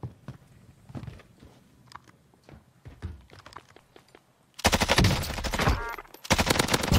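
Gunfire in the Warzone video game: quiet footsteps and clicks give way to loud, close automatic fire in rapid bursts, briefly broken by a short pause before resuming.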